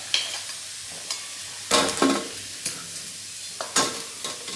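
Food frying in oil in a pan, a soft steady sizzle broken by several louder stirring scrapes at irregular intervals, close by, with no voices.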